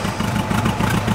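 A trike powered by a Volkswagen Beetle engine runs close by, a loud, steady air-cooled engine drone with a rhythmic pulsing clatter and no talk over it.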